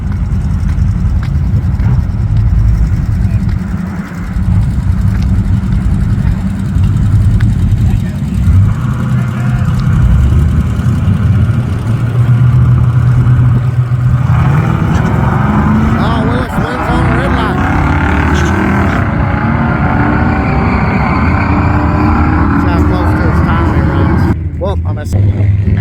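Drag racing cars in a bracket race roar down the strip, engine noise rising and shifting as a car launches and pulls away, with someone talking over the din.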